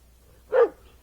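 One short, sharp dog bark rings out near a fence where a spooked Tennessee Walking Horse stands, a single close yelp against an otherwise quiet background.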